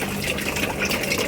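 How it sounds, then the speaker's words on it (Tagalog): Water poured into a container holding field frogs, a steady close splashing gush that runs without pause. "dagdagan natin tubig para di makatalon"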